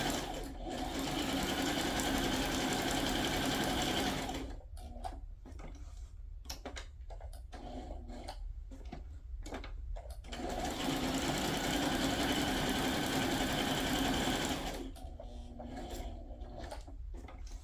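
A sewing machine zigzag-stitching around a paper journal tag runs in two long, loud whirring bursts, separated by a quieter pause with faint ticks and handling sounds.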